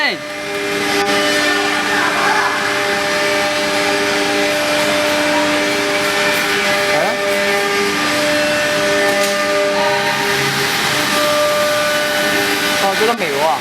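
A two-spindle 1325AS2 CNC milling router runs with a loud, steady mechanical drone and whining tones that hold throughout, while voices murmur faintly beneath it.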